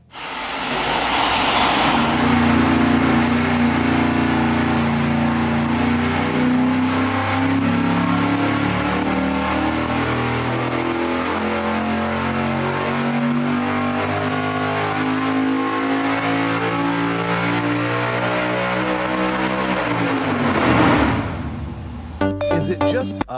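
An engine fitted with Hilborn injector stacks revs on a dyno, a loud, continuous roar that climbs steadily in pitch through the sweep, then cuts off sharply near the end.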